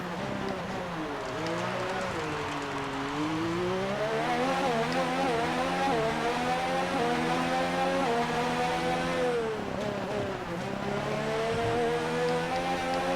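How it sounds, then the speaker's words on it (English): An F1 car engine in the F1 2019 racing game screams loudly and continuously, its pitch climbing and dropping through gear changes and braking, with no talking over it. "really listening to my engine and using that to help me make the decisions on when to brake and throttle."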